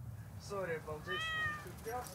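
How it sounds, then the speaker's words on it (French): A cat meows several times in short rising and falling calls, close and moderately loud over a low background rumble, with no talk. "Et notre chat est une feignasse."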